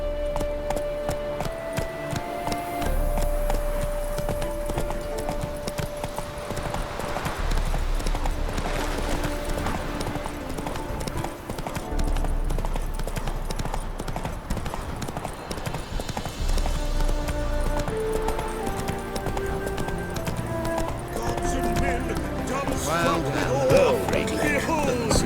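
Hooves of Roach, Geralt's horse in the video game The Witcher 3, clip-clop in a steady galloping rhythm throughout, loud and continuous over game music and ambience, with occasional faint voices.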